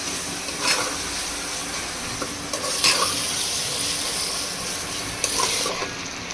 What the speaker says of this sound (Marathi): चला आता हे पुन्हा हे चांगलं परतवून घेऊ टोमॅटो भाजेपर्यंत आणि आलं लसूणची पेस्ट भाजेपर्यंत